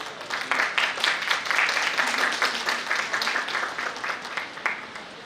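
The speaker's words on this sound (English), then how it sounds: "Give a big round of applause." A seminar audience gives a lively round of applause. Many individual claps are close together, with an uneven, pulsing rhythm that keeps steady for several seconds.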